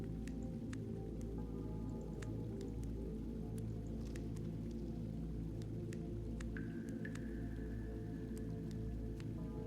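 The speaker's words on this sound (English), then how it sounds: "I hear the sound of running water." In the video game The Longing, running water flows and drips in an underground cave, a steady low wash with scattered droplet plinks and a faint tonal ring.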